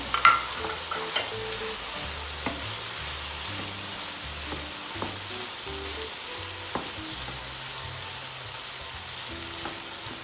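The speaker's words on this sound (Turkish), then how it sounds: "Birazcık da soğanlarımızla beraber kavuracağız." Onions sauté with chicken pieces in a pan, giving a soft, even sizzle with scattered clicks of stirring, fairly quiet and close, no speech.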